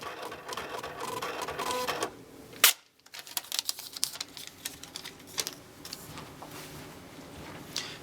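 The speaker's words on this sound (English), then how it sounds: "And it is printing a close report for the day." An Eclipse credit card machine printing a daily close report, bursts of rapid mechanical printer chatter with a brief sharp pause and clatter, then intermittent ticking feeds, close and fairly faint.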